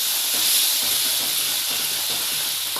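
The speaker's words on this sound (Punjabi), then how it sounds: "ਹੌਲੀ ਹੌਲੀ ਕਰਕੇ ਆਪਾਂ ਇਸ ਵਿੱਚ ਪਾਣੀ ਪਾ ਦੇਵਾਂਗੇ" Hot water added slowly to semolina halwa in a hot pan, raising a continuous, fairly loud sizzling hiss with an even texture throughout and no talking.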